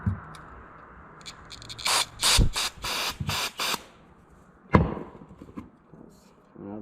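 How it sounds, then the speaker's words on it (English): Several short hissing bursts of carburetor cleaner sprayed into a push mower carburetor, close and loud, with thumps and a sharp knock between them and quiet stretches around. "Let's try to spray it in that little hole."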